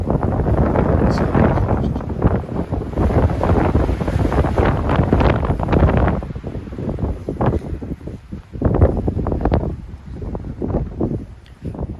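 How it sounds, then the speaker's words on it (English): Strong wind buffets the microphone in a continuous loud roar in an outdoor dwarf conifer garden in Sequim, Washington, easing slightly and gusting again toward the end, with no one speaking. "Sorry for it being so windy today."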